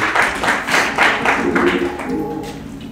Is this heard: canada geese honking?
no